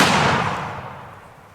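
A single loud shot from a Pedersoli smoothbore trade gun booms close by, then rolls away in a long fading echo.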